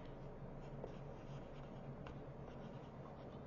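A Memento ink marker is written across paper in a soft, faint scratching that runs steadily under a constant background hiss, without speech.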